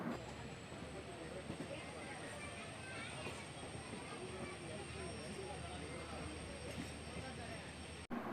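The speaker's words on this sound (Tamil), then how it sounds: "பத்து நிமிஷம் டிலேயில் நம்ம வண்டி தென்காசி ஜங்ஷனுக்குள்ளே போயிட்டுருக்குங்க" The Guruvayur Express on the Madurai–Sengottai line rolls into Tenkasi Junction with a steady, faint broadband rumble heard from on board. The noise holds even throughout and cuts off abruptly at the end.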